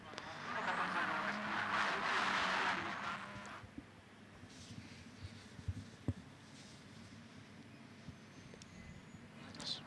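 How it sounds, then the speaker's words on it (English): Formula 4 race cars at the Sochi circuit heading back to the pits after the race, a broad engine whoosh swelling in the first few seconds then fading into a lower, steady background hum with a few brief sharp knocks. "As the drivers are making it back to the pits, we have finished the race 1 here in Sochi."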